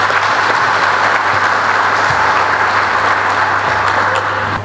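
A dense, steady round of clapping rises from an audience of teachers for a priest after his talk, close and continuous from start to finish.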